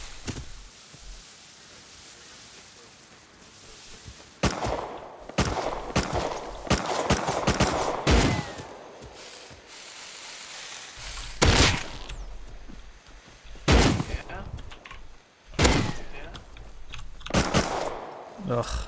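AK rifle fire in the survival game Rust, several sharp bursts and single shots spread irregularly over the span, with a player talking between them.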